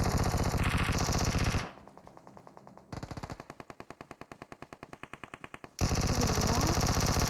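A UMP submachine gun fires in PUBG Mobile in loud, rapid bursts. A quieter stretch follows with a fainter string of shots, and the close, heavy fire then returns.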